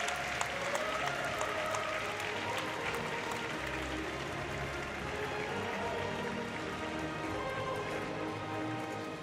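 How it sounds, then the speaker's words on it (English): Crowd applause at the women's 3x3 basketball final of the Olympic Games for the medalists, a continuous even patter of many hands heard at a distance, with a faint crowd murmur underneath. "One final round of applause for our Olympic medalists."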